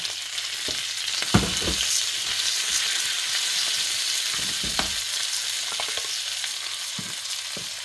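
An omelette with bacon crisps in hot oil in a pan, giving a continuous close sizzle with scattered pops and faint scraping taps as it is turned and pushed about.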